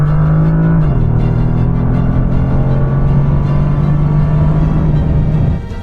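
A Bentley Continental GT pulls hard under full throttle with a loud, steady engine drone that holds one deep note, drops after a shift near the start, then fades slightly at the end. No one speaks.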